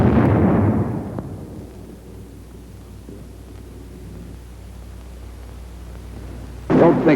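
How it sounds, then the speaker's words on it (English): A bazooka rocket blast at a sandbag emplacement opens with a loud, booming explosion that decays into a long, low rumble. A second sharp burst hits near the end. "A sandbag emplacement is no place for the enemy to hide. Not when he's hiding from the bazooka."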